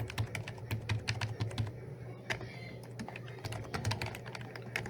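Fast typing on a computer keyboard while entering router configuration commands, a dense run of crisp key clicks that pauses briefly midway, close and fairly quiet.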